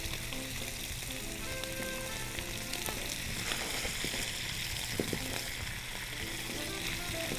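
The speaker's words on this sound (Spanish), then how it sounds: "ahora acá directamente al sartén el lomito" Pork loin searing in a hot frying pan fills the clip with a loud, constant crackling sizzle, close up, with a faint voice briefly in the background.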